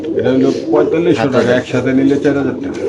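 Pigeons coo at a busy pigeon market, soft calls heard under near-constant close talking from buyers and sellers.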